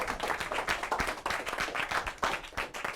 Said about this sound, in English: Big round of applause for Professor Shark.